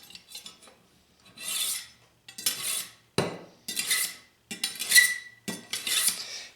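A steel knife is honed on a knife sharpener in six separate scraping strokes, each a bright metallic rasp of about half a second with short pauses between, close and clear, with no talking.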